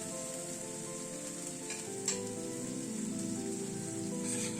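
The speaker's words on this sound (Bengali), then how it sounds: "গ্যাসের ফ্লেমটাকে মিডিয়ামে রেখে মশলাটাকে কষিয়ে নিচ্ছি।" Masala spice paste frying over a medium gas flame while being stirred in a pan, a steady close sizzle running throughout with a couple of sharper scrapes of the spoon partway through.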